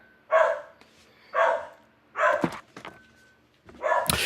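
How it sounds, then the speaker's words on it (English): A dog barks four times in separate, evenly spaced bursts, loud and close, with short quiet gaps between them indoors. "Barky dog."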